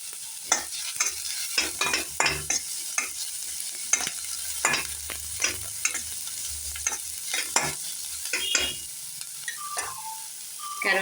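Cut green chillies fry in oil for a poha paneer upma, with a steady close sizzle broken by frequent sharp spatula scrapes and clinks against the pan, and no voices.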